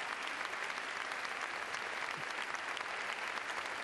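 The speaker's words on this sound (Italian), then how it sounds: "Questo è l'applauso del Teatro Storchi." Theatre audience applauds at the Teatro Storchi in Italy, a dense, continuous wash of many hands clapping that holds steady and fairly loud throughout, with no talking over it.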